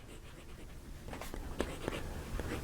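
A Jinhao Tiger's Eye fountain pen with a wet nib scratching across poor paper, soft close strokes that grow more distinct toward the end over low background noise.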